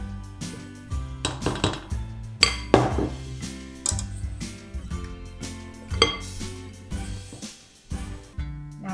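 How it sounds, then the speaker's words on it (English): Gingerbread cookie dough mixed by hand in a bowl, giving repeated clinks and knocks of a utensil against the bowl in an uneven rhythm, close and fairly loud, with no talking. "I'm just mixing it. Don't rush into it."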